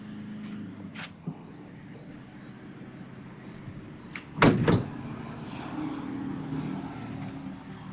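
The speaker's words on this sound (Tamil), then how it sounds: "டிக்கி ஓப்பன் பண்ணி காட்டுற பாருங்க" The rear boot hatch of a used 2007 Maruti Omni MPFI van is opened, giving a single sharp clunk and rattle midway through, against faint background hum and low ambient noise.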